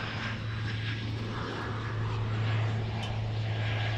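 An airliner arriving at DFW International Airport, with a steady, moderately loud engine roar and a low drone heard from a distance, without pause for the few seconds it lasts.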